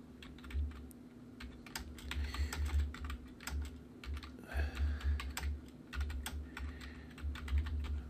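Rapid, uneven typing on a computer keyboard, close and distinct, with keys clicking in quick bursts over a faint steady hum.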